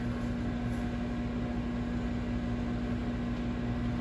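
A microwave oven runs with a steady, even electrical hum and a low drone, continuous and unchanging throughout, with no voices.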